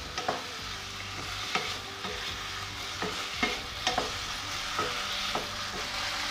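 Oyster sauce and water being stirred in a pan, with a utensil scraping and clicking against the metal at a steady, uneven rhythm over a soft, continuous sizzle, close and moderately loud with no talking.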